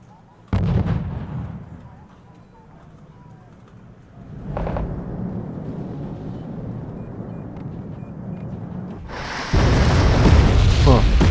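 Bomb run explosions in the combat game Wargame Red Dragon, with a sharp blast near the start, a heavy rumbling middle and a loud burst near the end, while voices talk over them.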